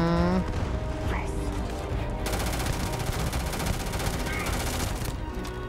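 Rapid automatic gunfire in Starfield, a steady dense rattle of shots sustained through most of the stretch, loud and close, with a voice speaking over the combat.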